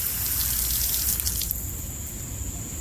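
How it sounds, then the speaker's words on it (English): Light rain drips and patters in a soft, watery hiss that eases off about halfway through, leaving a fainter steady trickle. "Became light rain just in a small area."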